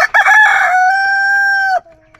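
A rooster crows once up close, a loud drawn-out call that holds steady before cutting off sharply, followed by near silence.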